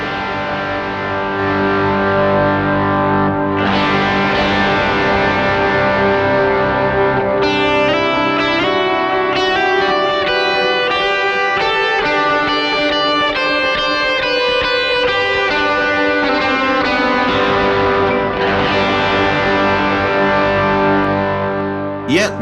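Electric guitar run through delay and reverb pedals on an analog pedalboard with the input turned down, playing sustained chords and melodic lines with repeating echoes and lush reverb tails, loud and continuous without talk.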